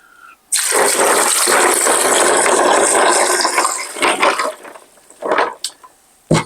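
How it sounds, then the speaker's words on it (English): Water is poured into a beverage can cooler over ice, a loud close splashing gush lasting about four seconds, then trailing off into a few short knocks and clicks. "Then you add some water to it."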